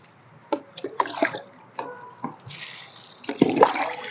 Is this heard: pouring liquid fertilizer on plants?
yes